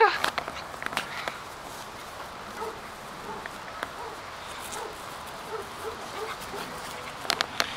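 A dog playing in a backyard, with light footsteps on the ground, small whimpers and yips, and a couple of louder bursts near the start and end, while people chatter in the background.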